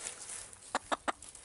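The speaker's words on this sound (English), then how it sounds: "Does finding chickens, does this count as finding animals?" Chickens cluck in three quick, clear bursts spaced evenly near the end, standing out from a soft, hissy outdoor background.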